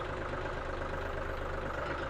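A tractor engine runs at steady idle as the clutch is slowly released, a continuous low, even rumble close by with no voices.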